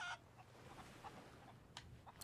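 Chickens in the video game Sea of Thieves give faint, scattered clucks over a low background rumble, with a few soft bursts spread across a couple of seconds.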